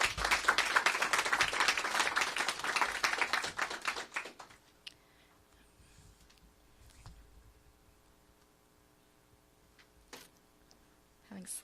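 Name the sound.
applause for Tubman Elementary School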